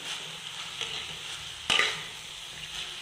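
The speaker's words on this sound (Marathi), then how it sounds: "व्यवस्थित परतून घ्यायची मेथीची भाजी" Fenugreek leaves and moong dal being sautéed in a pan, giving a steady soft sizzle with a sharper scrape or stir near the middle, moderately close and with no talking.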